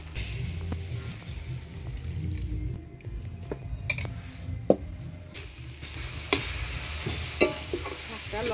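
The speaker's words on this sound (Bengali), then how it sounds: "শাকটা ফোড়ন দিয়ে নিই।" Bottle gourd greens are tempered in a kadai, sizzling while a spoon stirs and clinks against the pan, with intermittent scrapes and light metallic taps up close.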